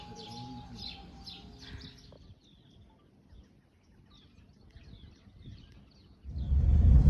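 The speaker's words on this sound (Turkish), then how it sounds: "Sadece kuş seslerini dinleyin şu an." Birds chirp and tweet in short bursts over quiet outdoor ambience in an orange grove in Finike, Antalya, fading after a few seconds before a low rumbling noise rises at the end.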